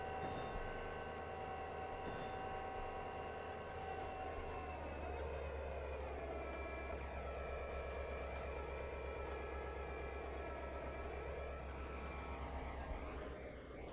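A coal train rolls past in the Trainz Simulator 3 game on the Summer Lake Valley route, a steady loud rumble of wheels and cars with sustained tonal hum and squeal. No one speaks.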